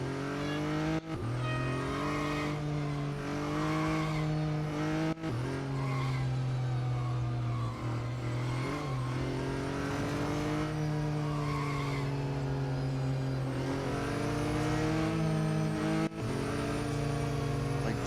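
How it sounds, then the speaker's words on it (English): McLaren race car in the Real Racing 3 video game, a steady loud engine drone with sustained tire skidding and squeal, continuous for the whole stretch with no talking. "So I can't skid."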